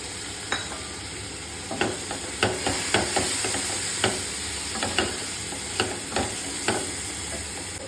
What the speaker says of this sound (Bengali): এবার আমি এর মধ্যে পেস্ট করে রাখা টমেটোটা দিয়ে দেবো